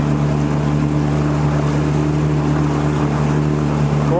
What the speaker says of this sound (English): Motor's running great.